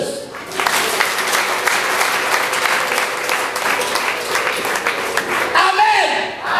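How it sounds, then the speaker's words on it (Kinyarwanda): Congregation applause during a church sermon, a loud, sustained burst of many clapping hands with a voice calling out over it, then a brief lull as the clapping carries on. "Komera amashyi Yesu."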